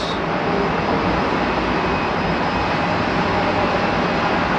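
Steady, loud jet engine roar from an IAE-powered Airbus A321 with sharklets, a broad continuous rush with a faint high whine, holding constant throughout with no voices.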